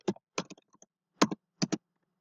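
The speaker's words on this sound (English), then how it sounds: "Now here I will type" Keystrokes on a computer keyboard, typed in short bursts of a few clicks with pauses between, close and fairly quiet with no talking.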